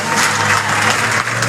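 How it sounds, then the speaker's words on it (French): Loud, dense applause from the crowd at a Cameroonian television awards ceremony, a short continuous roar of clapping. "On va applaudir très très fort."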